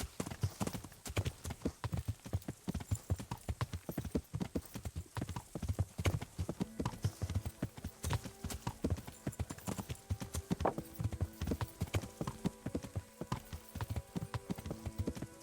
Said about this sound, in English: No, it's just a horse.